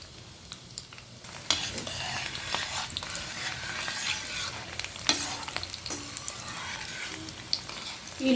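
Garlic, chana dal and fenugreek seeds fry lightly in tempering oil for a gongura pickle, a soft steady sizzle broken by sharp scraping stirs of a spoon against the pan, close and fairly quiet.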